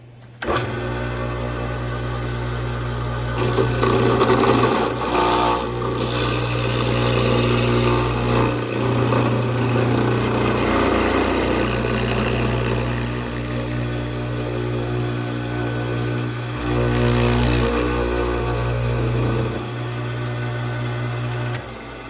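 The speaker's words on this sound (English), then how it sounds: "I bought a flush cut bit, and now we're going to trim off the edges" A router fitted with a flush cut bit trims the edges of a piece in a steady, loud whine that holds throughout, with slight shifts in pitch and load as the cut progresses.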